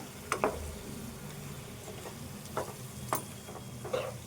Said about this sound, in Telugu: ఇప్పుడు టమాటా వేసుకుందాము ఇది హాఫ్ కేజీ టమాటో